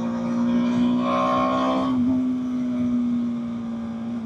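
A 2024 BMW G 310 R motorcycle hums steadily while being ridden, its engine drone dipping briefly in pitch partway through as a gear is shifted by hand. The sound is close, continuous and fairly loud, with no voices.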